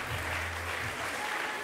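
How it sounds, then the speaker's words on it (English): Brief burst of audience applause at the 2007 MUSICOZ Awards show, a steady wash of clapping heard at moderate distance for under two seconds. "Give him a round of applause."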